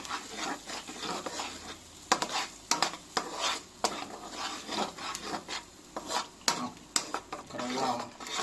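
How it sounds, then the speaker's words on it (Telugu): A tomato paste mixture being stirred into paneer ghee masala in a pan, with irregular scraping and rubbing strokes of a spoon against metal and a soft sizzle underneath, close and fairly quiet. "టమాటా మిశ్రమాన్ని ఇందులోకి వేయాలి. కలుపుకోండి."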